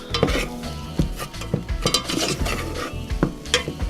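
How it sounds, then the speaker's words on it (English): A macaroni ball mixture is stirred in a bowl, a spoon scraping and clacking against the sides in an uneven rhythm of close, fairly loud strokes. "And so then we're gonna mix them around together."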